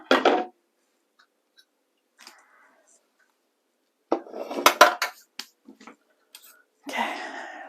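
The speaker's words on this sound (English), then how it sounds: "just grab a spoon and scrape the rest of that in" A spoon scrapes and clanks against a bowl while burger mixture is worked in, in quick separate bursts of clatter with quiet gaps between.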